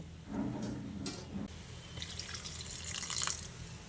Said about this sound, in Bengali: তাই আমি এখানে কিছুটা পরিমাণ জল দিয়ে দেব।